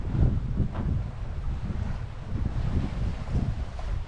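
Wind buffeting the microphone aboard a sailboat running fast downwind at about 6.5 knots, with rushing waves and low gusty rumble swelling and easing continuously, no voices.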